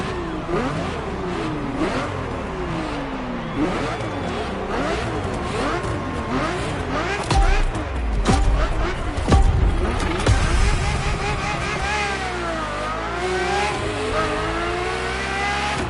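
A Ferrari F50 in the racing game The Crew Motorfest revs hard through rising and falling gear shifts, its loud engine note sweeping up repeatedly, with a deeper rumble and brief tire noise midway, heard without talk.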